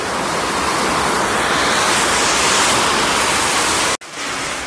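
Rain pours down in a dense, steady hiss that stays loud and close, with a brief dropout just before the end.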